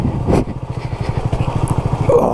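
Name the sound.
Honda CB250RS motorcycle engine on a green lane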